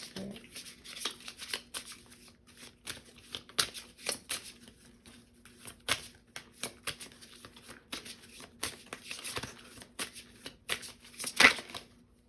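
Tarot cards are shuffled and drawn, with soft, close riffling and flicking card sounds in irregular bursts, a few sharper slaps standing out, over a faint steady hum.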